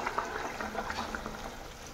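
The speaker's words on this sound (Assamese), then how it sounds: "এতিয়া ইয়াত অলপ মই গৰম পানী দি থ'ম" Hot water going into a simmering Assamese fish curry (masor anja) makes a soft, close bubbling and gurgling wash that stays low and even for a couple of seconds.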